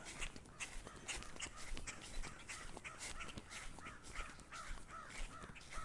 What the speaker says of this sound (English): Birds are having a blast.